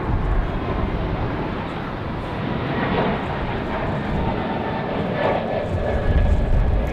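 A fixed-wing airliner taking off in gusty wind at Raleigh-Durham International Airport, its engines roaring steadily and loudly over a broad rush of wind noise, with faint voices underneath.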